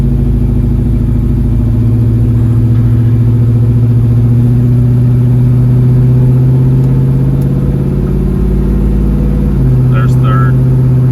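A 1967 Ford Mustang Fastback's engine pulls hard through the gears, a loud, close, steady drone that climbs in pitch, then drops at a shift near the end, with brief voices on top.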